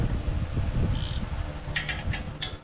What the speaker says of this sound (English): It's the wrench.